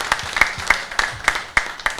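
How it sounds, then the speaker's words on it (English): Sparse, rhythmic clapping from a small audience at a golf tour announcement, a few sharp, evenly spaced claps standing out over light background applause. "big round of applause for Rahul Mehta"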